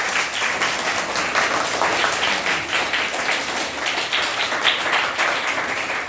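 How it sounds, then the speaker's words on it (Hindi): A class audience at a Hindi-language lesson claps loudly and steadily for several seconds, dense applause filling the room without talk. "एक बार जोरदार ताली बजा दीजिए"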